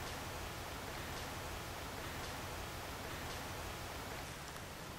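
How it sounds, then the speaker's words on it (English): Water streams and pours steadily down through a tree outdoors, a constant close hiss like heavy rain on leaves with faint patters, unbroken and without speech. "It sounds like something is peeing from the tree. Just this water pouring."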